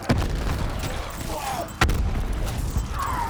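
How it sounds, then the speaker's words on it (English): Heavy booming explosions in Call of Duty: Black Ops 4, two sharp blasts standing out above a dense, constant rumble of gunfire and battle noise. "I've long become numb to the sound of explosions."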